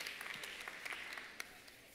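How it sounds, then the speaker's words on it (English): Sparse, faint clapping from a few people in a church, scattered claps with one sharper clap standing out, in an otherwise quiet, roomy space. "Okay, five people clap."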